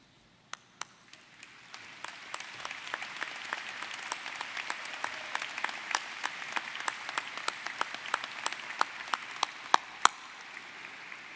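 Faculty at a college convocation ceremony stand and applaud graduates: sparse, distinct claps at first that swell into steady, moderately distant applause from a large hall, with a few sharp individual claps standing out, no talking.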